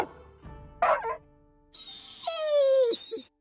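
Dog companion in the video game Monster Hunter Rise voicing a few short barks and yips, followed by a drawn-out, falling whine, close and clear with no talk.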